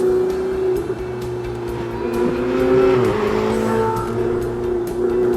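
Ferrari 488 Spider twin-turbo convertible driving on winding roads in Italy, a steady engine drone with rising and falling pitch as it accelerates and shifts, heard from inside the car with road and wind noise.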